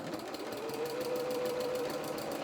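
A sewing machine runs a steady line of quilting stitches down a vinyl-fronted project bag, its fast even motor whirr and needle chatter close and continuous, with no talk.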